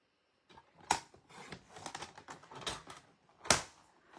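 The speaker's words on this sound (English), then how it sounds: "And so I'm using this old paper trimmer." An old paper trimmer cuts cardstock with several sharp, close clicks and slicing scrapes, with quieter handling sounds between the louder strikes.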